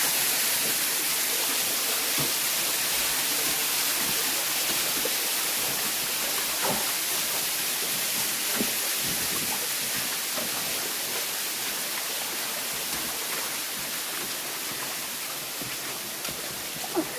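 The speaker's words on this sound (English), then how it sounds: "The water coming out of there." Water pours steadily out of an old mine adit in woodland, a dense, constant rushing wash close by that runs unchanged throughout with no talk over it.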